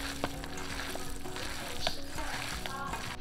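Grated potato being stirred together with black pepper, salt and grated onion for a stuffed rösti, a steady close, wet, squelching mix with a faint sizzle-like hiss underneath and no talking.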